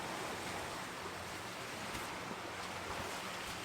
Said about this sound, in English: water comes in, swirls around the rock as it's going out